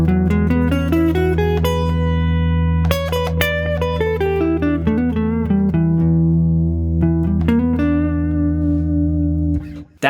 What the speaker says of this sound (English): When you're playing parallel scales like that, it's very obvious how minor and major pentatonic sound different.